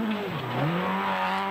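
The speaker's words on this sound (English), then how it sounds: "It's a great little car. It just sounds fantastic" A rally car racing on a power stage of Rally Victoria, Australian Rally Championship, with its engine revving hard and shifting pitch through acceleration in a continuous, loud drone, with no speech.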